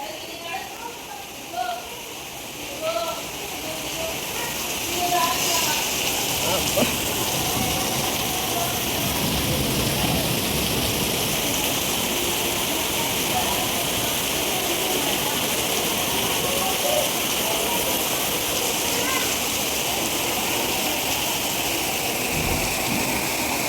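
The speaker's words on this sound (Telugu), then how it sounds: "10 నిమిషాల్లో ఎంత గట్టి వర్షం స్టార్ట్ అయిపోయిందో చూసారు కదా!" Heavy rain pours down steadily in a sudden downpour, a dense, loud hiss that builds over the first few seconds and then holds, with low rumbles of thunder mixed in.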